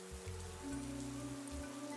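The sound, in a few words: rain falling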